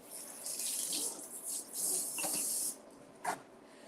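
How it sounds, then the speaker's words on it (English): Tap water runs steadily into a kitchen sink as fresh produce is rinsed under it, a bright hissing splash that shifts as the food moves through the stream, then cuts off, followed by a short final spurt. "let's give these a rinse"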